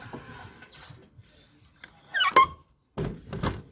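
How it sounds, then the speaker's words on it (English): Hoover Soft Wave Autowasher 1100 washing machine door being moved on its squeaky hinge: soft thuds, then a sharp rising squeal, followed by a couple of dull knocks, close by with a voice murmuring early on. "Very squeaky door hinge for some weird reason."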